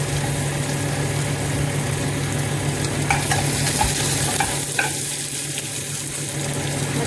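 Dried red chillies sizzle in hot oil in a pan with a constant, close frying hiss and occasional light stirring clicks, for a simple Odia home lunch.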